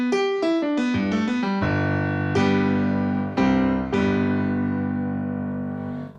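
A Triton Extreme keyboard, played over MIDI, carries a melodic synth line. Several quick descending notes lead into sustained chords that swell and ring out, loud and clear, with no voices.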